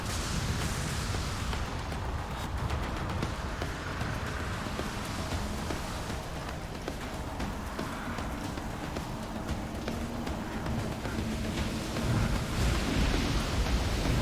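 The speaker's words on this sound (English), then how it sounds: "Storm seems to be calming down" A thunderstorm rages in Deus Ex: Human Revolution, with steady rain and deep rumbling thunder rolling throughout, no voices over it.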